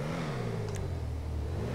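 A car engine upgraded to level 4 in GTA Online hums and revs at mid pitch, a steady engine drone that dips slightly, with a brief high chirp partway through.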